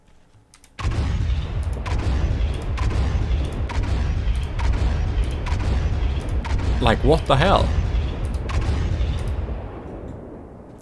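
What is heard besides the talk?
advanced cannon firing in video game From The Depths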